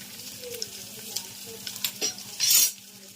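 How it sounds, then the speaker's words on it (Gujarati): Ajwain tempering sizzles in hot oil for cluster bean curry, with faint stirring taps and one brief louder hiss of sizzle near the end. "ગુવારનું શાક અજમાથી વઘારવી તો મસ્ત લાગે"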